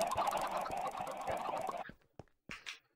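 Minecraft chickens in survival mode cluck in a steady, busy run for about two seconds, then a few short separate clucks follow with gaps of quiet between them.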